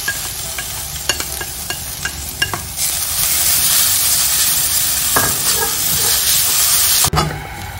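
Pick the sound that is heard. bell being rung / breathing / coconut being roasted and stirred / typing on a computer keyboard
coconut being roasted and stirred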